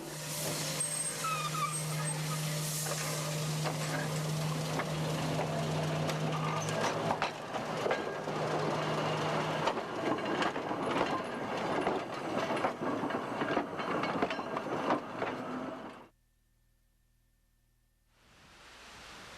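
An Indiana Railroad lightweight interurban railcar running on track at the Illinois Railway Museum, a loud continuous rumble and rattle of wheels that drops to near silence before noise returns.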